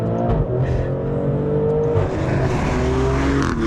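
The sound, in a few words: SUV engine accelerating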